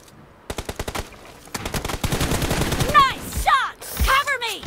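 Rapid bursts of gunfire in the BGMI mobile battle royale game, first a short string of shots and then a longer sustained volley, mixed with sweeping game effects near the end.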